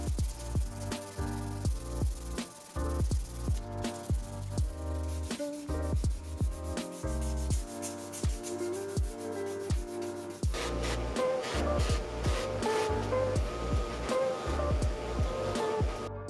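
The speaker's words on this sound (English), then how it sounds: "finish out these scales, probably with some high grit sandpaper, maybe the buffer" High-grit sandpaper rubbing over 3D printed knife handle scales, a steady run of close, rhythmic scratchy strokes that turns denser and hissier in the second half, with no talking.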